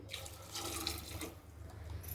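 Water runs steadily from a tap into a pot of jujube fruit, a quiet continuous splashing stream with no voices.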